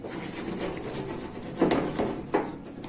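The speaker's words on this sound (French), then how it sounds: "Là je suis en train de gratter sur le four avec la spatule." A wooden spatula scrapes the caked grime inside a dirty oven in a close, gritty rub. A few sharper strokes stand out near the end, and no one speaks.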